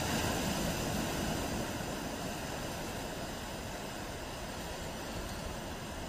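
Ocean waves at Sardinero beach early in the morning produce a constant broadband rush of surf, slightly louder at the start and then steady, heard from a distance without talk.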